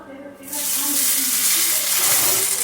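Loud, steady sizzling of tempering spices hitting hot oil for coconut chutney, a dense crackling hiss that bursts in after a short quiet start and continues without pause.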